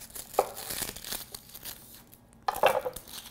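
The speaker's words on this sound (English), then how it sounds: "So to cut the onions, here's what you need to do. Get rid of this end like this." A knife slices the end off an onion on a cutting board, two short crisp crunches with a quiet pause between them.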